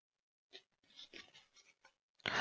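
Tarot cards being searched through and handled, a few soft scattered taps and slides, then an abrupt loud rustling burst at the end.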